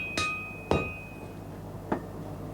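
A blacksmith's hammer strikes hot steel three times at uneven intervals to widen a punched hole for a hammer shaft, each blow a sharp ringing clang over a low background hum.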